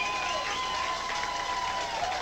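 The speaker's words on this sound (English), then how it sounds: "all receiving big ovations from this partisan crowd" Partisan crowd at a high school football game giving an ovation, a sustained roar of cheering and clapping heard from a distance over a brief stretch.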